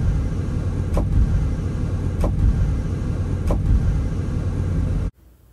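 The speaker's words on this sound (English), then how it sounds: "let me play for you the soundtrack of the clunking noise that you should hear in your car." Worn upper and lower strut bushings on a 2008 BMW X5 give three evenly spaced clunks over a steady road rumble while the vehicle is driven, and the noise cuts off abruptly at the end.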